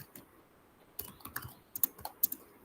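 A wget command is typed on a computer keyboard in short bursts of close, crisp keystrokes with sharp clicks and gaps between them, no speech.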